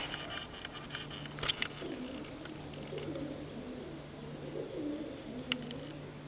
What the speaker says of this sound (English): I just heard some sort of bird going